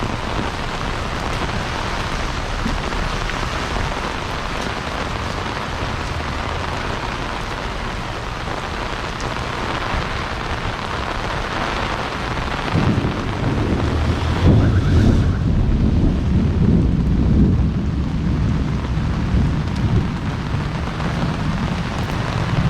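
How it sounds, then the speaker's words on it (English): Heavy tropical storm rain pours steadily on a street in Jaco, Costa Rica, with wind buffeting the microphone, and a deep rumble of thunder swells louder past the midpoint and rolls on to the end. "Wow, that's some serious thunder."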